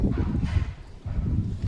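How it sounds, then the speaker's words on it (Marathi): Strong gusts of wind rumble and buffet close by at a home near farm fields, heavy and low, easing briefly before surging back, with nothing else audible. "असा आवाज येतोय हवेचा लगेच."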